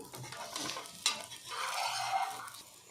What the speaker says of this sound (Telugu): ఆల్రెడీ తోటకూర ఉడికినా కూడాను కొంచెం నిదానంగా కాల్చుకోవాలి